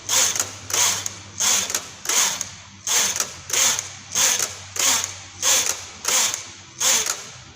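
A knitting machine carriage sweeps back and forth across the bed, knitting rows of a baby sock, with eleven evenly spaced swishing, clicking passes, close and steady, and no talk.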